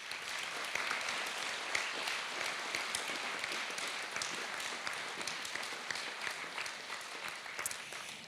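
Steady applause from a large audience fills a cultural holiday award ceremony hall in Krško, with dense continuous clapping throughout and no speech.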